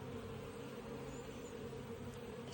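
Honey bees droning inside an opened hive during an inspection, a steady low hum with layered buzzing tones, continuous and close, no voices.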